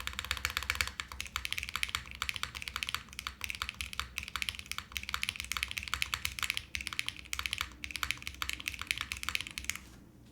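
Rapid, steady typing on an Orbit65 mechanical keyboard, with spacebar presses mixed in among dense, close clacking keystrokes that run throughout with no talking.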